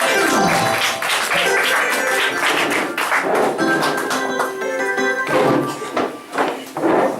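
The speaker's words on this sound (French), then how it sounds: "Donnez les acclamations qu'il faut" A church congregation at an Assemblée de Dieu service breaks into applause and acclamations, with dense clapping and raised voices swelling and dipping over several seconds.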